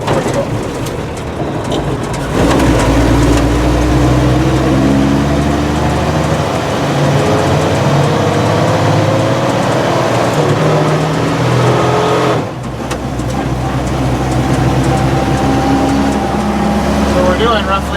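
A 1954 Dodge Power Wagon M37 truck engine drones steadily while driving at around 40 to 45 km/h, a loud continuous low rumble with road and wind noise, briefly dipping once mid-run.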